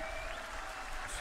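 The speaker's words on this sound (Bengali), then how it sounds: "সবাই আমরা সজোরে করতালি দিয়ে" A crowd at a BJP political rally in West Bengal applauds loudly, producing a continuous, steady wash of clapping with no gaps, fairly distant and uniform.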